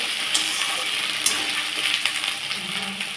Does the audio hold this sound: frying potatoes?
yes